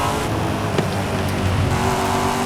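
Engine of a 2020 Corvette Stingray in the racing game Forza Horizon 5, a steady loud car drone with a brief sharp transient near the start, no voices.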